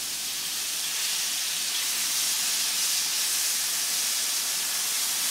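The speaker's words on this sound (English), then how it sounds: "next step, in goes our onions." Onions hit a hot pan for sweet and spicy vegan chili, setting off a loud, steady sizzle that hisses without a break throughout.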